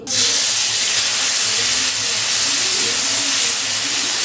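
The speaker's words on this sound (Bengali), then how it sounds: "তখন এর মধ্যে চিংড়ি মাছগুলো দিয়ে ভেজে নিতে হবে" Prawns drop into hot mustard oil and sizzle at once, a loud, sudden burst of hissing spatter that holds steady and close throughout, with no voices.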